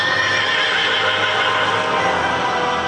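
A horse whinnies loudly and continuously, a long bright neigh close by with a wavering pitch and a little clatter underneath.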